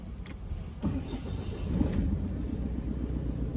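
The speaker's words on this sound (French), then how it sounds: "faire entendre comment démarre le fourgon maintenant." A van engine with a newly replaced starter cranks and catches, then settles into a steady low rumbling idle, close and continuous.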